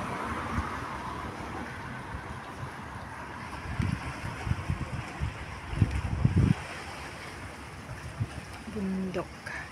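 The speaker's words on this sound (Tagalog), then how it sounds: "Na-expose na ako dito sa malakas na hangin." Strong wind buffets the microphone on a cloudy day outdoors near a mountain in Hong Kong, a steady rough rumble that swells in gusts, louder in the middle and near the end.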